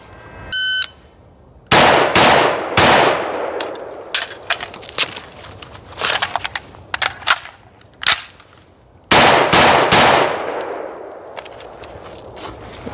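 Rock River CAR A2 rifle fired at steel targets on a range: a string of loud, sharp shots in quick pairs and bursts with ringing metallic impacts, a pause, then another rapid volley, plus a brief electronic beep at the start.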